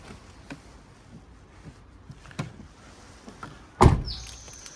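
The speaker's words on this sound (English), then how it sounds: "Let's do a trunk close as well here." A Honda Civic Type R trunk lid shuts with one solid thud near the end, after a few light clicks and handling noises, with no talk.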